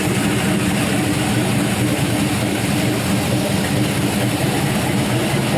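A used 5.3-litre LS V8 with a big cam, fresh head gaskets and a new oil pump idles steadily while warming up, a loud, continuous low rumble with no pauses and no talk over it.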